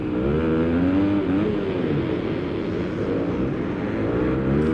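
Dirt bike engine in the Supercross 6 racing game, a loud continuous motocross whine with shifting revs and pitch sweeps throughout, steady and close with no talk over it.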